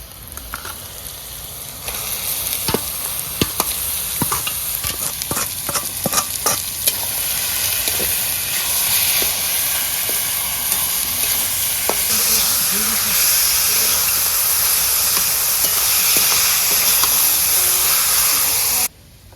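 Minced meat fries with half-cooked onion and green chilli in a pan, a loud continuous sizzle and hiss overlaid with a burst of rapid stirring scrapes early on, then settling into a steady spitting fry.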